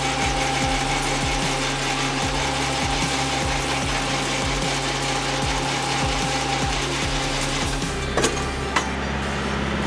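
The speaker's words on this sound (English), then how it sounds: "now I'm going to drop the landing gear on this trailer" Trailer landing gear cranked down by hand, a steady run of evenly spaced ratcheting clicks over a low engine drone, ending with a sharper metallic clunk near the end.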